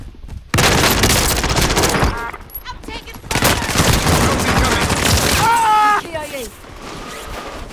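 Rapid bursts of video game gunfire crackle loudly through the scene in dense volleys, with heavy impacts and a brief lull midway, while players shout over the shooting.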